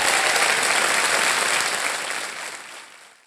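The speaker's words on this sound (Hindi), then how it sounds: "तालियां बज जाएं इनके लिए।" A studio audience at a television game show breaks into applause, full and loud at first, then thinning and fading away toward the end.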